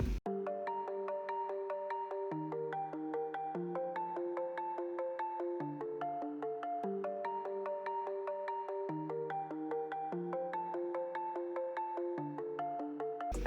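An arpeggiated synth pattern from the iZotope Iris Block Signs preset plays with its low end cut by EQ, a quiet, bell-like repeating sequence of plucked notes cycling steadily, alone with no voices.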